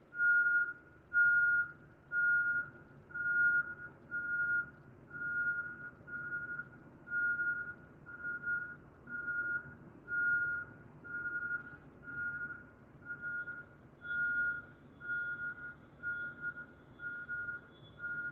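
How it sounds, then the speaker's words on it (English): A vehicle backing up sounds its reversing alarm: a loud, regular series of evenly spaced electronic beeps, about one per second, repeating steadily for nearly twenty seconds over a low engine rumble. "Is that Gorlock backing up, I hear? Beep, beep."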